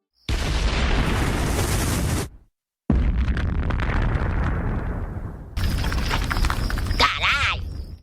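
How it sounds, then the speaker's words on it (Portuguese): A giant cartoon explosion in South Park, a loud sustained roaring blast that cuts out abruptly, then a second rumbling boom fading down, followed by crackling debris and a warbling tone. "eles decidem destruir o negócio com uma explosão gigantesca"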